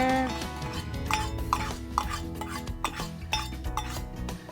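Maple syrup and butter stirred together in a pot, a utensil scraping and clinking against the metal in an uneven rhythm over a low background hum, close, with no voice.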